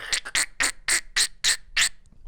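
A voice imitates Donald Duck's squawk, about seven raspy bursts in a steady rhythm, close and fairly loud.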